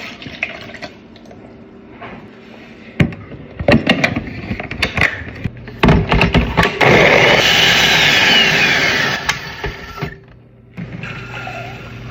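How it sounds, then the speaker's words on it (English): A blender whirs loudly for about three seconds, blending Haitian kremas with evaporated milk, after some scattered clatter and knocks, then cuts off sharply. "Gonna blend it with evaporated milk."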